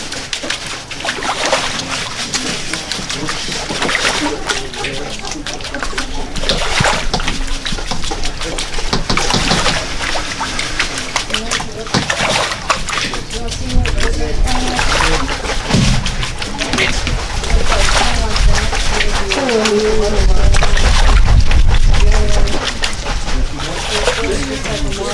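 Gravel being wet-sifted in a sieve in water at Crater of Diamonds State Park, with steady sloshing, swishing and splashing throughout, growing heavier near the end, while a voice talks over it.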